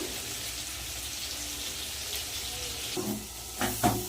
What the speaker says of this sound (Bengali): এদিকে আলুটা ভাজা হোক